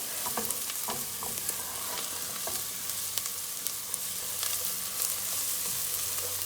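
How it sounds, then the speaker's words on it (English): Garlic frying in a pot for tortilla soup, a loud continuous sizzle with intermittent stirring scrapes and light taps, close up and without speech. "toss our garlic in. Mix that up and let it all cook together for a bit."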